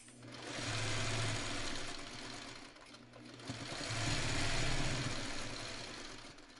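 A sewing machine stitches quilt blocks for a Trip Around the World quilt, running in two sustained bursts with a steady whirring motor hum and a brief slowdown between them, close and fairly loud.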